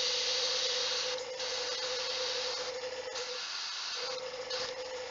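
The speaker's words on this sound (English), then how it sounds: "It's interesting spraying with a technical paint" Steady hiss of an aerosol spray can laying technical paint onto Guild Ball miniatures, continuous and close with a couple of brief pauses, no voices.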